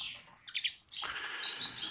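Gloster canaries chirp and trill in bright, close bursts, a short call, a brief pause, then a longer run of rapid high song.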